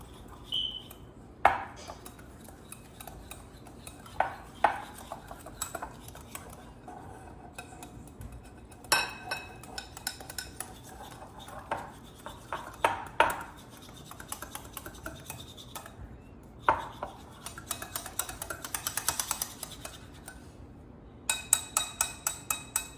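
Souffle pancake batter is mixed thoroughly in a bowl, producing irregular bursts of scraping, tapping and clinking as the utensil hits the sides, close up, with short pauses between strokes and quicker rhythmic whisking near the end.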